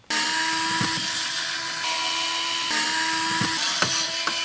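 Power driver backing screws out of the dash of a 2022+ Subaru WRX: a continuous high whir in close short bursts, pitch dipping briefly a few times, with no talk.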